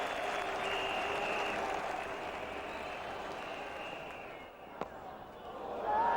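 A cricket crowd at Old Trafford cheers and applauds during an Australia versus West Indies World Cup one-day match, a broad, distant roar that swells and fades under a lull, with a single sharp knock and the noise rising again at the end.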